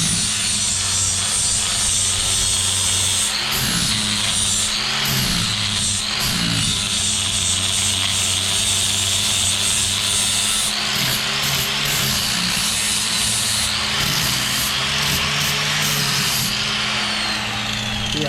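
A grinder cleans up welds on an indoor fireplace build, a loud, continuous, harsh whine with brief dips as it touches and lifts off the metal, close and steady throughout.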